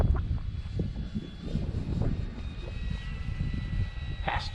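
A Draco RC model airplane drones overhead in a rudder-only turn, its engine a steady low rumbling hum outdoors, moderately distant, with faint wind noise and no speech.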